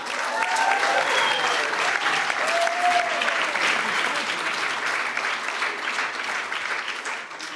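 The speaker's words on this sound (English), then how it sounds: "I think you guys really deserve a round of applause." Steady, dense applause from a large crowd at a fundraising announcement, loud and sustained throughout and only slightly thinning toward the end, with a few faint voices and whistle-like tones mixed into the clapping.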